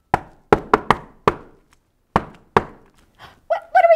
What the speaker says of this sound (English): The soldiers knocked on the door.